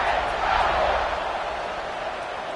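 A stadium crowd roars in an American football video game before a kickoff, a dense, steady wash of cheering that holds at a constant loud level throughout.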